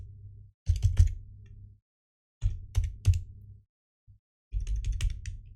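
Typing on a computer keyboard while coding a cTrader indicator: three separate bursts of rapid, close key clicks with silent gaps between them over a faint low hum.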